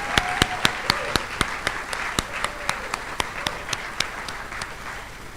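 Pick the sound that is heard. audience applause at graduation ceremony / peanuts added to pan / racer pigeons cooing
audience applause at graduation ceremony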